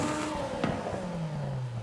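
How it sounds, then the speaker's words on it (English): A Forza Horizon 5 car fitted with a sport turbo revs briefly, its engine note rising then dropping into a lower falling drone, with a short sharp transient in the middle. "Now the sport turbo."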